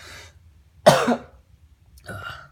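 A single sharp, loud cough bursts out, followed by a softer throat sound a moment later, close to the listener with quiet pauses around it.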